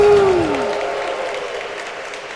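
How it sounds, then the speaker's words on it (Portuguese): A church congregation at Sunday Mass breaks into loud, dense applause that fades slightly over a couple of seconds, with a short falling tone at the start. "Uma salva de palmas para Ele"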